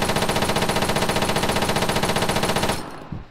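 Rifle on full auto in ArmA III, a rapid, steady, loud burst of evenly spaced shots lasting nearly three seconds, then cutting off to a brief tail and one faint thud.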